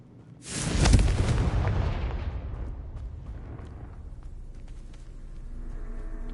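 A Confringo fire-spell blast from a Harry Potter–style video game bursts loudly near the start, then a long rumbling decay fades away, followed by quieter background game sound.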